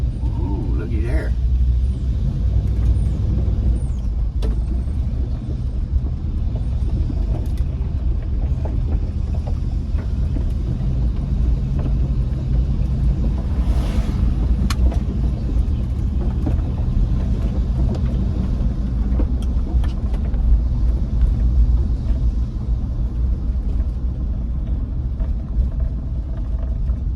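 A 1986 Chevrolet C10 Suburban on its first drive gives a continuous, loud low engine and road rumble from inside the cab, steady throughout, with a voice occasionally over it.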